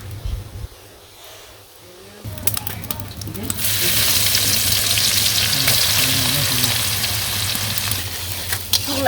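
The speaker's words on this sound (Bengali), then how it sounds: "কড়াই তেল দিতেছি তেল গরম হয়ে গেছে এই জায়গায় জিরা আছে জিরা দিয়ে দিলাম" Hot oil sizzles loudly as cumin seeds hit the pan, a steady bright crackle that swells after a quieter start with a low hum underneath.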